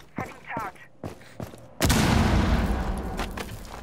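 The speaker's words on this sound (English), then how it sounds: "or I'm just shooting a 50 cal" Heavy .50 cal gunfire in the video game Rainbow Six Siege: a few short, sharp shots, then a loud sustained burst that carries on to the end.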